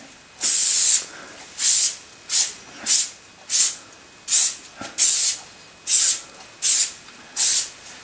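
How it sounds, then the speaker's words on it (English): Eleven short hissing bursts of cooking spray in a quick, uneven rhythm, each lasting under a second, close and loud against near silence. "I'm just going to give it a quick spray, a little spray with a bit of cooking spray all around."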